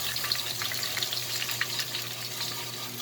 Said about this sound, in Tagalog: Maganda ang pagkaprito niya.